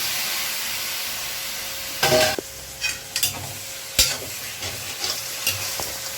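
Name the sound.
cooked duck meat stirred into frying spice masala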